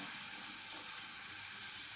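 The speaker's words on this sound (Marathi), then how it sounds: "मी हे दूध घालते थोडंसं हे दूध मी घातलं" Milk poured into a hot pan sizzles with a steady, fairly quiet hiss of steam that holds evenly throughout, with no voices.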